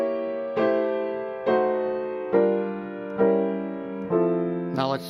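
Five sustained jazz chords in four-note drop 2 voicings move through the cycle of fifths, each struck about once a second and left ringing. A short voice sound comes in at the end.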